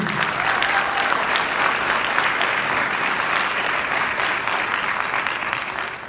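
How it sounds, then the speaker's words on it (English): Steady, dense applause from a concert audience at a marching band concert, sustained at an even level for about six seconds and tapering slightly at the end. "But let's have a big round of applause for Mr. Hershey."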